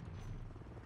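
A VTOL aircraft in the video game Call of Duty MW3 gives off a faint, steady low rotor rumble for under a second, heard distantly with no talk.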